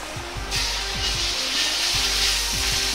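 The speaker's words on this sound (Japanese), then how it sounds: "豚肉を炒めていきます。" Sliced pork sizzles in a pan with a tablespoon of oil, a steady loud frying hiss that swells as the meat hits the hot surface, while a low rhythmic background hum pulses underneath.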